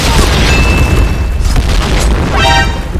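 Grenade blast in the online shooter Point Blank, a loud booming explosion with dense low rumble running through the whole stretch, mixed with game effects and a brief rising tone.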